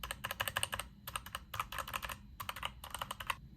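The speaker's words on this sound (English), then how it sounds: "is baby's first mechanical keyboard" Quick bursts of clacky keystrokes on a mechanical keyboard, typed in short rapid runs with brief pauses between, fairly quiet and close.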